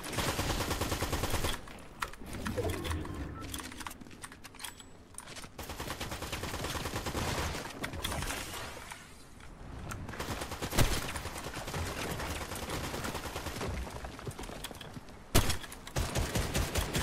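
Gunfire in Fortnite arrives as bursts of rapid shots and sharp cracks. They are loud and close, and short gaps of quiet break up the shooting.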